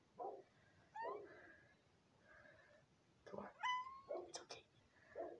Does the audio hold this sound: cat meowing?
yes